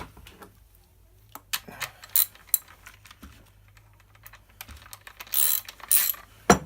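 Wrench tightening the tensioning nut on a chainsaw chain and bar on a tabletop, giving scattered metallic clicks and ratcheting taps, with a denser burst of clatter near the end, close and fairly quiet.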